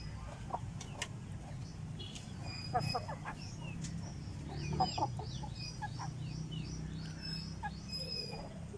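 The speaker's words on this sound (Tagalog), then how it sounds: "napakalaking manok na ito" A large flat-combed Tanaka Shamo pullet with red plumage clucks in short, scattered calls over a steady background of other chickens and birds, with voices talking nearby.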